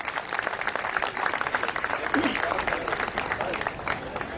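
Audience applause at an award presentation ceremony in Karachi, a steady wash of many hands clapping with crowd noise throughout, fairly distant and moderately loud.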